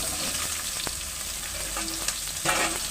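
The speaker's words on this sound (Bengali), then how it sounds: "বন্ধুরা ভাজাটা হয়ে গেছে বাদামি কালার করে এখন আমি দিয়ে দেবো শাকটা" Leafy greens going into hot oil with fried onion and chillies, a steady crackling sizzle with a few scraping stirs, close and continuous, no talking.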